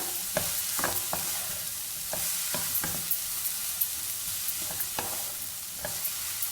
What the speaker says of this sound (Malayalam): അപ്പോൾ നമ്മുടെ ക്യാപ്സിക്കവും സവാളയും നല്ല വഴണ്ടിട്ടുണ്ട് കേട്ടോ